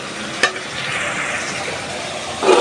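Tomatoes sauté for a fish curry with a steady, fairly loud sizzle, marked by a sharp clink at the start and a louder burst of frying stir near the end, with no one speaking.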